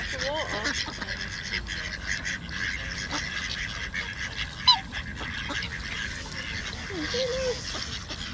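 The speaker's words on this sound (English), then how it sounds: "all the ducks think we're going to feed them" Ducks quack and honk now and then from a short distance against a steady outdoor background hum, with no other calls standing out.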